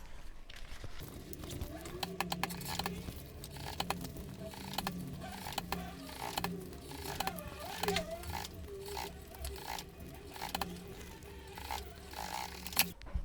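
A sewing machine stitches a seam on synthetic leather for a shoulder bag, with a quiet, steady run of rapid needle pulses over a low motor hum.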